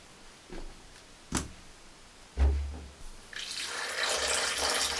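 Lukewarm water poured into a bowl of flour mixture for bread dough, a short splashing pour that swells into a steady, fairly close trickle toward the end after a few soft knocks.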